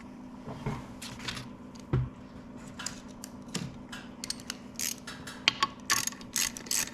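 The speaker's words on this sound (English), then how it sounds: "So I'm just going to use my 1/4 inch drive ratchet socket extension here, snug them up." A 1/4 inch drive ratchet on a socket extension snugging up side plate bolts on a Kohler K91 engine, heard as quiet, close ratcheting clicks in short bursts with a few metallic knocks in between.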